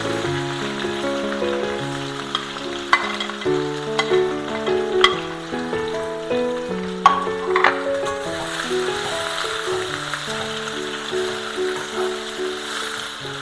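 Onions and tomato for a soya curry fry in a pan with a loud, steady sizzle, overlaid by repeated scraping and stirring clatter throughout.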